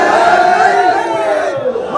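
A crowd at an Islamic religious gathering (waz mahfil) chants the slogan Allahu Akbar in unison, a loud, sustained massed shout of many voices filling the whole moment.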